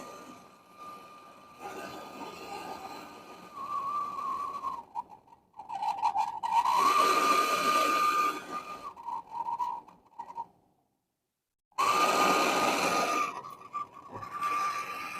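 A gas torch hisses and roars in bursts while welding a punctured fridge evaporator, its flame rising and dropping with a faint whistling tone and pauses of near silence between passes.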